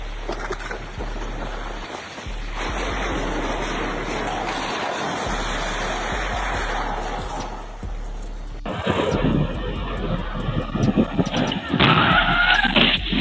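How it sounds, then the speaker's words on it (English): A car involved in a collision skids toward pedestrians on a street, with loud sustained tire noise and roaring road sound, then a harsher burst of scraping and impact-like crackle toward the end. "a car involved in a collision came hurtling toward them"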